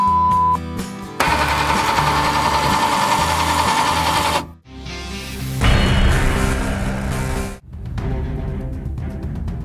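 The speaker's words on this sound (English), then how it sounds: "This is a mini harvester. It cuts the rice, and then neatly bundles it into tight sheaves." A mini rice harvester cuts rice and bundles it into tight sheaves, a loud continuous mechanical rattle and whir that drops out briefly midway and again near the end, with no voices.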